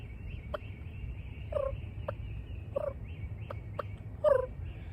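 A voice imitates a hen turkey's soft yelp tree call, a short series of quiet, spaced yelps with brief clicks between them, close and alone over a faint background hum.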